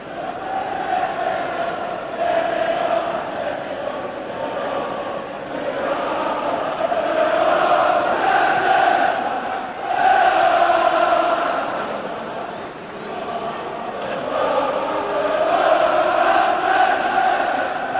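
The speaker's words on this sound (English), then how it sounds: "Manchester United fans singing "You've been outclassed."" Manchester United football fans chanting together in a packed stadium, a distant massed singing that swells and dips in waves over a steady crowd roar.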